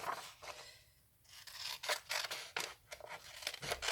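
Scissors snipping through a paper box template, a steady run of close, crisp cuts with short pauses between strokes.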